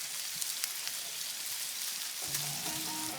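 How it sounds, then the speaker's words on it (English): Rain falls steadily outdoors during barbecue cooking, a dense, even hiss of drops on surfaces with faint sizzling beneath, continuous and without talk. "You never know, this rain may just pass over."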